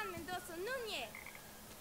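Frogs croak in the video game Papo & Yo, a short burst of warbling, chirpy calls followed by a few faint high blips, heard alone at low volume.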